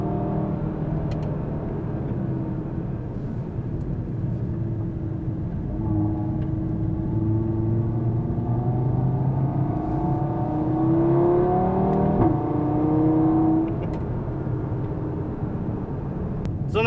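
A 2016 Audi TT RS drives introductory laps behind a pace car on a race track. The engine gives a steady cabin drone with gradual rising and falling revs, close and continuous throughout.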